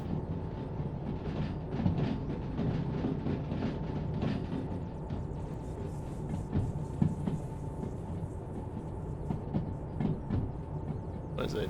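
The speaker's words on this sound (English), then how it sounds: "There's a train over here somewhere." A train rolls along rails in the video game Derail Valley, a low continuous rumble with faint rhythmic clatter at moderate distance, quiet and steady without speech.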